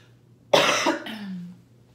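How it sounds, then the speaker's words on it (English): A single harsh cough, loud and close, trailing off into a short rasping breath. "I've had this horrible cough for like 2 weeks now."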